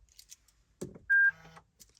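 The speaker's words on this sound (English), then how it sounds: "you push the key towards the start button and you'll hear an audible beep" A single sustained electronic beep from a Toyota GR Yaris keyless push-button start, clear and fairly loud, surrounded by faint mechanical clicks and a short buzzing tone.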